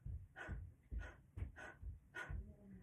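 Rhythmic panting during a vocal breathing warm-up, about five or six quick breathy exhale bursts in a regular pattern, close and fairly soft, with no talking.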